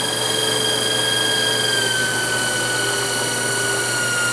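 A Victor 9x49 EVS milling machine runs at high spindle speed, giving a steady, continuous whine with a constant mechanical hum, loud and close, with no pauses.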